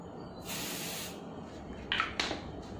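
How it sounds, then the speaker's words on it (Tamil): Short hiss of body spray from an aerosol can, a half-second burst followed by two quicker puffs, close and clear with no talking. "இதில் கொஞ்சம் ஸ்ப்ரே அடிச்சு விடுங்க, போடி ஸ்ப்ரே."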